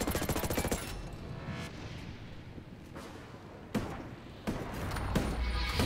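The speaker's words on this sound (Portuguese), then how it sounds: "Primeiro tiro do metranca." Ghost Recon Breakpoint machine gun fire: a rapid burst of shots at the start, then scattered loud bangs and thuds over a noisy background.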